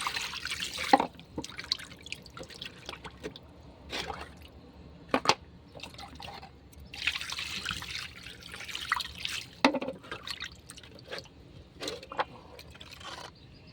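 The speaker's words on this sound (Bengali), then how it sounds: "পরিষ্কার করে ভালো করে আমি পানি পেলটে পেলটে ধুয়ে নেবো" Fish being washed by hand in a bowl of water that is changed repeatedly, with quiet intermittent splashes, drips and trickles and occasional scraping, close and faint with no talking.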